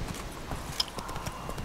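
Horse hooves clip-clop at a steady walking rhythm in The Witcher 3 video game, moderately quiet with no talking over them.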